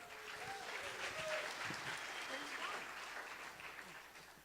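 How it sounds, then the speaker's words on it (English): Applause for a pianist at a memorial tribute, a soft, distant patter of clapping from a gathered audience that holds steady and then tapers off, with some voices mixed in underneath. "how about a big round of applause to Tina Kaplan-Weiss on the piano?"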